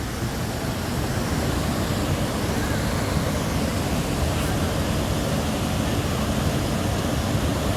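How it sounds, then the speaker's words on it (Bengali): A mountain stream rushes along the Silk Route near Zuluk, Padamchen and Aritar, a loud, unbroken wash of flowing water heard up close and steady throughout. "দেখুন জলের স্রোত, দেখুন কত স্রোতে জল বয়ে চলেছে।"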